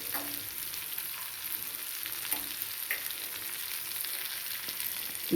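Sliced bitter gourd and onions fry in oil with a steady, even sizzle and hiss, punctuated by a few soft clicks of stirring.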